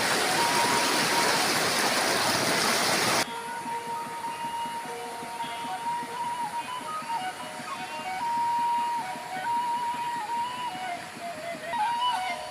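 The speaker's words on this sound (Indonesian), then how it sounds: "Ini sungai Cilongan yang nyambung ke sungai Citerus nih" The Cilongan river runs through a village in Indonesia with a steady rushing, broadband flow. It is loudest for the first few seconds, then continues somewhat quieter, with faint tonal sounds over it.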